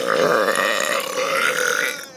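A long, loud, resonant human burp rolling on for about two seconds, close to the listener and heard alone.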